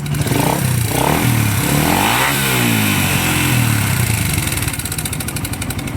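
A motorcycle engine on a stock carburetor is revved hard in repeated rising and falling bursts, loud and close, with a rough, noisy idle between throttle blips and no talking.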